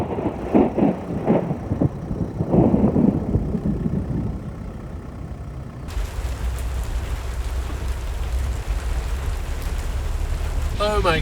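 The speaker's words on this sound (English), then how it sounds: "Here comes the rain." Voices and outdoor noise give way to a sudden, steady roar of heavy summer rain in Chobe National Park that drowns out everything else.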